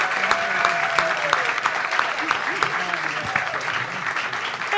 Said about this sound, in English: Please join me once again in thanking our guests, Dr. Moiya McTier and Dr. Mark Popinchalk.